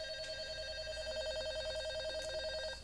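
Telephone ringing in a steady, continuous electronic trill, sustained at moderate level throughout.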